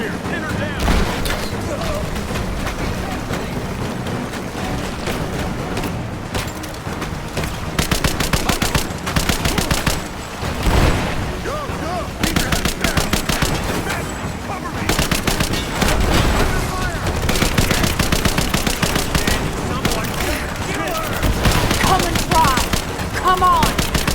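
Sustained gunfire from enemy soldiers in Rise of the Tomb Raider, dense automatic bursts and single cracks running almost continuously and loud, with shouted combat voices mixed in.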